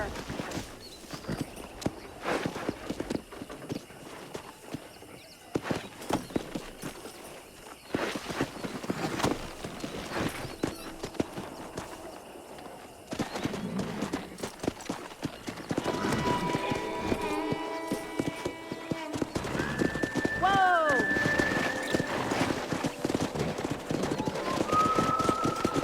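Horses in the Red Dead Redemption video game clop and shuffle as they are wrangled, with hoofbeats under scattered game noise and other sounds, and whistle-like tones toward the end.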